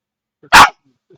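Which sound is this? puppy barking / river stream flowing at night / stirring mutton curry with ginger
puppy barking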